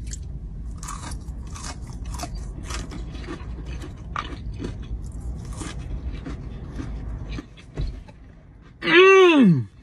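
Someone bites and chews crunchy Jack in the Box popcorn chicken up close, with a steady run of crisp crunches, and a short vocal sound comes at the end.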